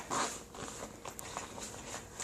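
A quick, soft zip as the long back zipper of a Ju Ju Be Hobobe bag slides open, faint and close with a light rasping texture for about two seconds.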